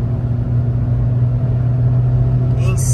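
Turbocharged VW Up TSI with stage 3 tuning and an aftermarket exhaust accelerating, a steady loud low engine drone holding through the pull with a brief higher whine near the end.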